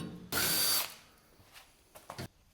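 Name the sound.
power drill drilling holes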